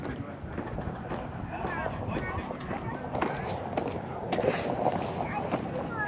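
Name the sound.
wind at Mount Washington summit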